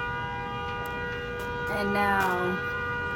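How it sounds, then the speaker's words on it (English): A car horn sounds as a long, steady tonal blare that holds throughout, with a voice talking over it. "the horn is honking"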